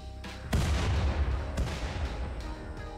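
Gunfire in the RimWorld video game: heavy booming shots, one sharp blast near the start and another about a second later, over a dense rumbling battle bed.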